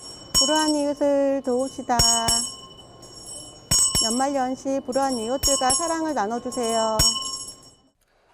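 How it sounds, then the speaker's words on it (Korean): A Salvation Army charity kettle bell rings in sharp, repeated metallic strikes in an underground shopping arcade at Suwon Station, heard beneath a volunteer's clear appeal for donations. "구세군 자선냄비 종소리가 울려 퍼집니다."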